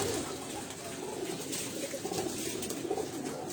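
A Sialkoti pearl pigeon coos softly in a few low, rolling phrases, close by, over a constant hiss of background noise.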